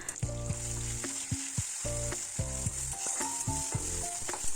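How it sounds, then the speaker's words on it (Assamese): Onion, chilli, ginger and garlic frying in hot oil give a steady, close sizzle with bursts of crackling and the scrape of a spatula stirring the pan, heard alone without voices. "ৰৈ যোৱা তেলখিনিতে মই পিঁয়াজ, জলকীয়া, আদা, নহৰুখিনি অকণমান ৰঙচুৱা হোৱালৈকে ভাজি ল'ম।"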